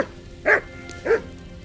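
A dog in the video game Kingdom Come: Deliverance 2 gives two short, fairly loud barks about half a second apart, heard over a soft hiss of rain.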